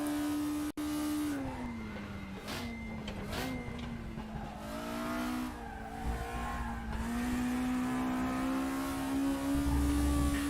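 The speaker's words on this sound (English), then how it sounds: "Now we get to enjoy the wonderful noise that this thing makes. This high revving, naturally aspirated car." A high-revving, naturally aspirated front-wheel-drive race car on slick tyres, in the RaceRoom racing game, screams steadily up and down through its gears with brief tyre squeal, loud and continuous with no talk.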